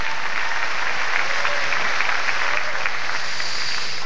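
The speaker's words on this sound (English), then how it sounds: "Give yourselves a round of applause for that." Applause from a stand-up comedy crowd in San Francisco fills the room in a steady, dense roar of clapping, alone and uninterrupted.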